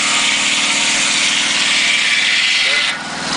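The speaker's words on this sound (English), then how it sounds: "There's the saw. That's a 22-foot long Volkswagen motor." A portable sawmill powered by a Volkswagen motor runs steadily at close range, a loud continuous engine drone with a rhythmic low pulse, easing off slightly near the end.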